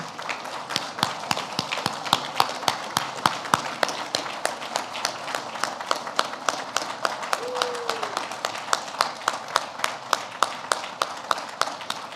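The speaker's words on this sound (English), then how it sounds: "one more round of applause for the Auxiliarist of the Year" Sustained applause from a crowd at a Coast Guard Auxiliary awards banquet, a steady patter of many hands clapping at a lively pace for several seconds.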